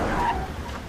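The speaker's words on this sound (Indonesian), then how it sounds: "Sayangnya mobil Prem disenggol hingga mengalami kecelakaan." Tyres skid loudly as a car is sideswiped into a crash in an Indian film scene, a continuous close screeching rush with no speech over it.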